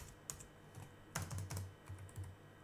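Keys clack on a computer keyboard while a configuration line is entered on a CentOS 8 system, a quick uneven burst of soft, close clicks, faint and alone.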